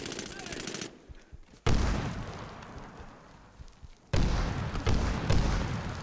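Heavy blasts and rattling gunfire in the Medal of Honor Warfighter multiplayer shooter, with two sharp, loud explosion onsets followed by sustained roaring crackle and bursts of shots, close and dense.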